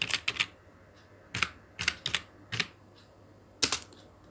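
A computer keyboard typing entries into Tally accounting software: a few quick clustered keystrokes, then separate taps spaced out over a few seconds, close and clear with no talk over them.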